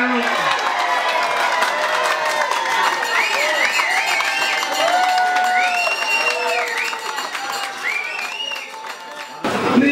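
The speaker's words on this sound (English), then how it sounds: "big round of applause please for our new mayoress." Festival crowd applauding and cheering the new mayoress, a continuous roar of clapping with whoops and shouting voices over it, easing briefly before a last swell.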